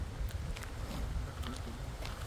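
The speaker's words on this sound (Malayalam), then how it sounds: "നല്ല കാറ്റ്, നല്ല കാറ്റ്." Strong wind buffets the microphone in low, rumbling gusts that roar steadily throughout, outdoors at a planting field in New York.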